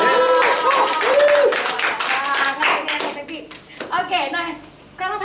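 Audience clapping hands at a live worship church event, a lively burst of applause that mixes with voices and cheers and fades toward the end.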